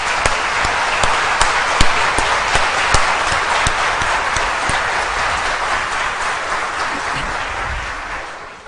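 An audience applauds in a lecture hall, a sustained wash of clapping with a few sharp nearby claps, fairly loud, gradually fading out at the end.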